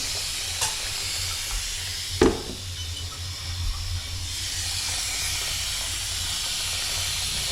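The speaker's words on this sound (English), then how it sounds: "Now we're gonna release the water." Water rushes from a faucet during home plumbing repair, a steady hissing flow that swells louder partway through, with a brief clunk near the start and no talk.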